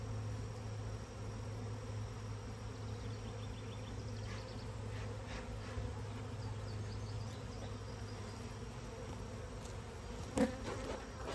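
Bees buzz around a hive in a continuous, dense drone, with individual insects passing nearby and occasional faint knocks and rustles over the steady hum.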